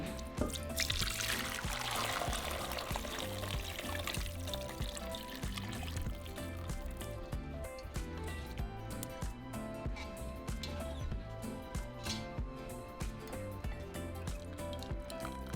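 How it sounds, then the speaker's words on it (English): Beef broth is strained after the meat is removed, with a continuous liquid pouring and dripping splash up close, gurgling and sloshing steadily, with faint clinks and scraping under it. "Okay, so just strain your broth."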